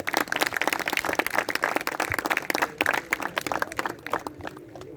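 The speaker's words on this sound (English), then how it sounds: "Please welcome ma'am with a huge round of applause." A school felicitation ceremony audience gives a warm round of applause: dense, lively clapping from many hands that thins and fades out in the final second.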